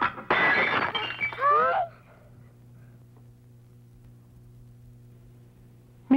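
A ceramic flower vase shatters indoors with a loud, bright crash and a scatter of tinkling fragments over about two seconds, followed by a faint steady hum.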